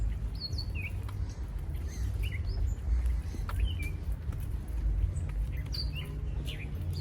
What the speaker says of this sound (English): Beautiful birds, huh?